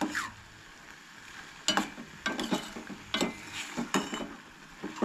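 A ridge gourd vegetable dish being stirred in a pan, with a spoon scraping and clinking against the metal in irregular bursts over a faint simmer. The sound is quiet and close.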